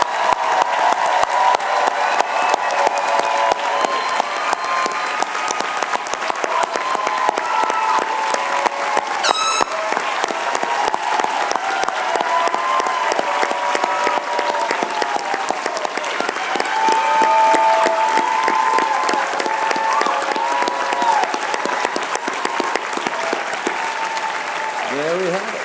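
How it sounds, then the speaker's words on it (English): Sustained audience applause for the Harvard Medical School and School of Dental Medicine class of 2024 at Class Day, a dense, even roar of clapping from a large crowd with some cheering mixed in and voices audible beneath it. "Please give them a round of applause."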